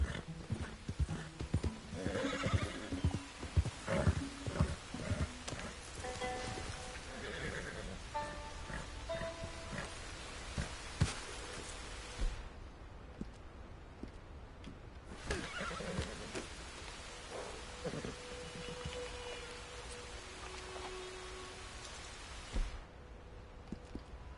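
A horse in Red Dead Redemption 2 whinnies and neighs repeatedly, with clip-clop hoofsteps and a soft patter of rain behind it, fairly quiet over a long stretch with brief pauses.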